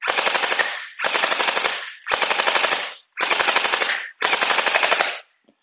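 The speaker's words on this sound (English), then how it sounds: "so it's shooting pretty nice. Let's see what kind of power we got going." A DUOMY Mini-AKM47 gel ball blaster fires five rapid full-auto bursts, each about a second long with short pauses between, loud, close and alone.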